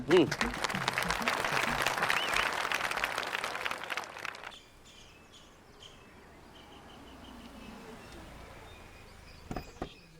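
A short burst of clapping from a few people comes close and fairly loud, then cuts off after about four seconds into quiet background with faint chirping.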